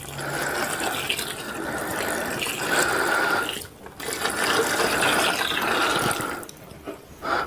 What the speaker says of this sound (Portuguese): agora nós vamos acrescentar os 635 ml de água, que é, digamos, a parte mais importante do concreto.